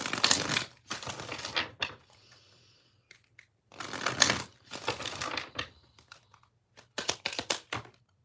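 Bursts of tarot cards being shuffled, crisp riffling rattles in several short rounds separated by brief pauses, close and clear.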